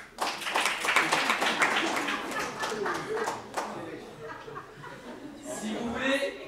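An audience applauds to cast a vote at a live show, a burst of lively clapping with some laughter that swells early, then thins and tapers while voices talk over it.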